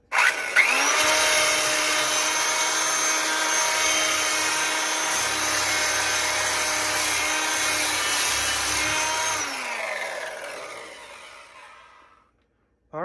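A Montgomery Ward Powr Kraft polisher sander runs on test after repair: a sharp switch-on, then a loud steady electric motor whine held for about ten seconds before it cuts off and spins down, followed by a click.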